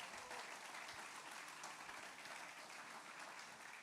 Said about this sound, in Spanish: Le damos una ofrenda de palmas al Señor.